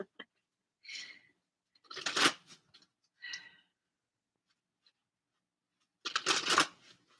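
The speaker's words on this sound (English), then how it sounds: "let me finish with a chakra card" A deck of chakra cards being shuffled in several short, crisp riffling bursts separated by silent pauses, close and moderately loud, with no talking.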